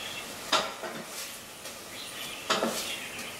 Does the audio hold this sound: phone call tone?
no